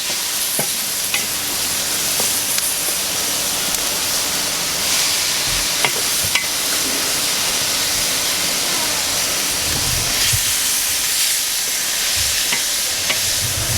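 Paella ingredients sizzle steadily in a pan over low heat, giving a loud, continuous frying hiss with occasional pops and stirring scrapes. There is no talking.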